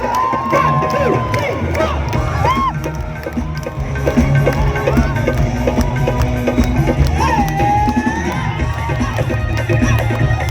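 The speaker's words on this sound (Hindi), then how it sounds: "मीठी मीठी तालियों के साथ चलते हैं" Large outdoor concert crowd at a live Bihar Utsav show on Patna's Gandhi Maidan, cheering and applauding loudly and continuously, with shouts and whoops rising from the mass of people.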